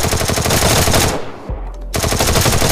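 Rapid, loud shotgun blasts in the Free Fire video game: a dense run of shots, a brief pause with a low boom, then more bursts of gunfire.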